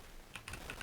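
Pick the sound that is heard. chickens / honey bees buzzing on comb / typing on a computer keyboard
typing on a computer keyboard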